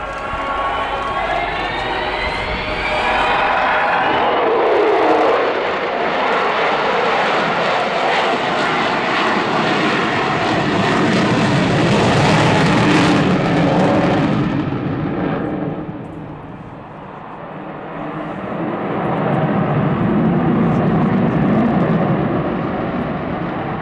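Avro Vulcan jet bomber flying at the RIAT 2009 air show, a loud sustained roar with a rising whine, swelling and fading briefly before the thunder returns.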